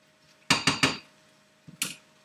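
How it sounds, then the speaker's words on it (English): A metal pan of spinach set back down on a stove burner, three quick clanking knocks followed after a pause by a softer double clatter, close by and with no talking. "I'm going to put it back on the burner and just keep it at a low heat just to keep it warm"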